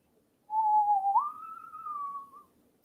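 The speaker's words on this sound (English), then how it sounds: "Sorry about the whistling, but if a song's stuck in my head, I can't get it out" A man whistles a short tune he has stuck in his head, one clear rising phrase lasting about two seconds, close and alone with no talk.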